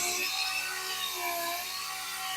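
Steady rubbing hiss of 2000 grit sandpaper worked by hand across a car body panel on a Nissan 350Z, close and continuous with no voices.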